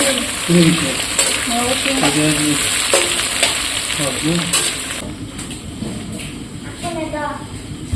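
Onions frying in hot oil, a steady broadband sizzle with scraping stirs, running under a voice for most of the stretch before the talk drops away.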